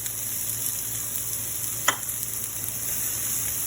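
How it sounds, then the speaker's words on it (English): Chopped onion sautes in hot oil in a pan with a steady, close sizzle and a single brief clatter of stirring partway through. "Then I'm going to put the onion first."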